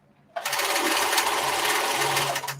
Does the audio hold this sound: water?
no